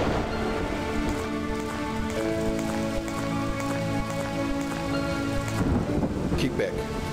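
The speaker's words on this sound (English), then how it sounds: "I remember the rain. Thousands of tiny pieces against my skin." Steady heavy rain pours down in a video game while deep thunder rumbles and swells, with a louder roll toward the end.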